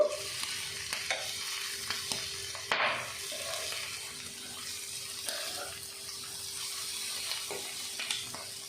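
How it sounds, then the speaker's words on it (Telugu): Boti (goat tripe) frying in a pan, a steady sizzle with scattered sharp crackles and pops, close and alone with no talking. "మనకి పేలుతున్నట్టు సౌండ్ వస్తుంది కదా, అలా వస్తే బోటీ బాగా కుక్ అయిపోయినట్టు."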